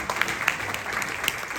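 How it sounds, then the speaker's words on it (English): Applause from an audience at a comedy show in a 55+ community, clapping for veterans: a brief, dense patter of many hands, moderately loud and steady, with no speech over it. "Are there any other veterans in the house? Clap your hands, make some noise, veterans."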